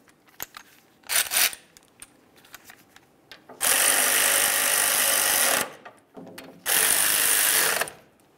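Caliper slider bolts being run in on the rear brake of a 2002-2005 Ford Explorer, heard as two loud sustained bursts of whirring power-tool rattle, each over a second long, following scattered light clicks and short mechanical taps.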